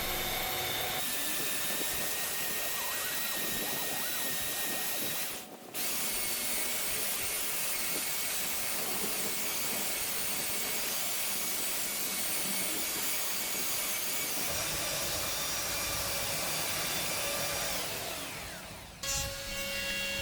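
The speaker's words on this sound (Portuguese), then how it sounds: "eu vou fazer o desbaste da parte inferior usando a lixadeira de cinta, começando no grão 60 e avançando até o grão 300" A belt sander grinds the underside of a wooden chessboard base, working from 60 up to 300 grit. The motor whines steadily and loudly with a continuous abrasive hiss, dipping briefly near the middle and again near the end.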